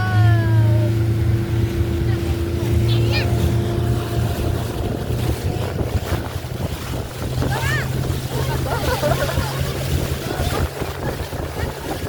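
A boat ride on Bulbule Lake: steady low engine hum with broadband wind rumble on the microphone throughout, loud and continuous, with faint voices in the background.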